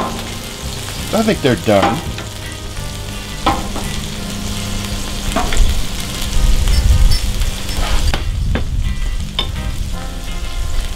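Onions frying in a pan for a patty melt give a steady, loud sizzle with stirring scrapes throughout, while a person speaks briefly over the cooking.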